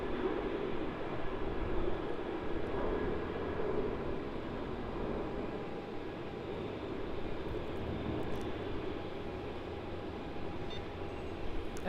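A Qantas airliner, flight QF610 to Brisbane, roars steadily at Melbourne Airport, a broad sustained jet rumble that holds for the whole stretch with no voices over it.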